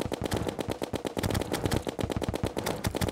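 Rapid gunfire from enemies in the video game Terraria, a dense, steady stream of sharp repeated shots running through the whole stretch, loud and continuous with no pauses.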